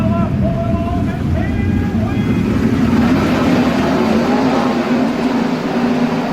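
Sprint cars roar off at the start of the final round of the SRA Sprint Car season on a speedway, a dense, steady wall of engine noise with rising revs early on, loud and continuous throughout.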